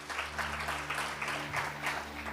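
At a church worship service in Semarang, a congregation claps in a rhythmic, regular beat, bursts of hands landing roughly three times a second over a low steady musical hum.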